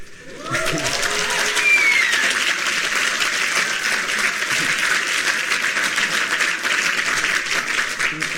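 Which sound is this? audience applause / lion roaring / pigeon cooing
audience applause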